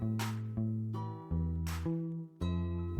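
A synthesized guitar-like intro from a hype-drop electronic song: plucked chords changing every half second or so, with bright strums, steady and clear without any voices.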